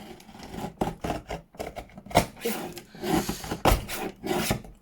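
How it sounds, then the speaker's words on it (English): A paper trimmer slices through a notebook page in a craft setting, giving a series of close, short scraping and rasping cuts in quick irregular succession. "I've just got my trimmer next to me. I should just"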